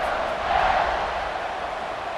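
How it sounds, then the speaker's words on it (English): A stadium crowd in a college football video game roars steadily during an overtime kickoff, a dense, sustained wash of cheering with no clear breaks. "this crowd is feeling themselves after that last drive"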